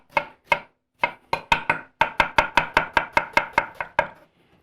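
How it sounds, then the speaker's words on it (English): A knife chops a red onion on a board in quick, crisp strokes, a few spaced cuts at first, then a fast, even run of about fifteen sharp chops close by, ending abruptly. "I have a red onion that I'm going to chop real quick."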